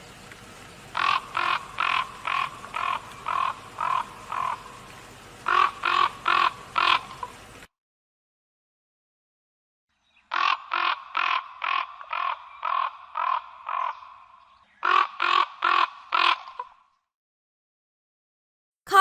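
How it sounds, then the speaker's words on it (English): Raven calls in runs of repeated hoarse, evenly spaced croaks, several bursts of six to ten notes with a silent stretch midway, loud and near. "Raven."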